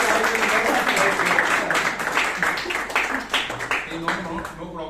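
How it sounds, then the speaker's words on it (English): Audience applause at a Toastmasters club meeting in Bangalore, a dense patter of clapping that stays loud before thinning toward the end, with a voice talking over it. "Please give Sheeb a big round of applause."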